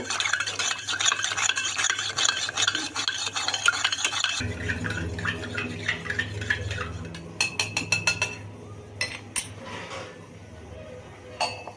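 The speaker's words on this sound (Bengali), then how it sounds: "কালকে আমি আখের গুড় ভিজিয়ে রেখেছিলাম এটাকে ভালো করে গুলিয়ে নিয়ে ছেঁকে এটাকে খাবো" Sugarcane jaggery soaked overnight in water being stirred in a metal vessel, a spoon clinking and scraping against the sides in repeated strokes, with quieter wet swirling and occasional sharp taps toward the end.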